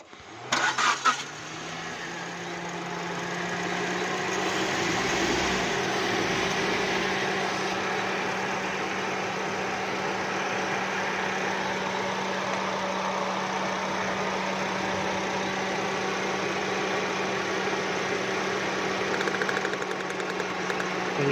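Suzuki Swift engine idling with a misfire caused by a faulty spark plug, a steady, close, continuous hum with uneven vibration running throughout after a brief start.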